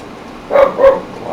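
A dog gives two quick barks, moderately close, over a steady background hiss in an indoor crafting setting.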